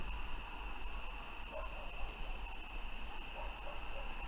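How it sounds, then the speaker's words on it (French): A cricket chirps at night in a cornfield, short high trills repeating every second or so, faint and steady over a quiet, hissy background. "C'est un grillon."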